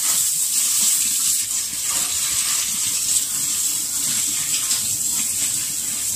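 Tap water runs steadily into a salad spinner, rinsing freshly cut microgreens; a close, continuous rushing splash with no pauses or voices.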